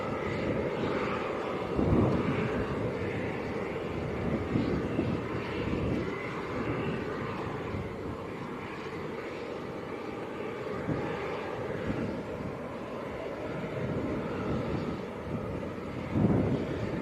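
Eastern Airways airliner pushing back at Leeds Bradford Airport, a steady distant engine roar with wind buffeting the microphone, holding level for the whole stretch with a few louder gusts.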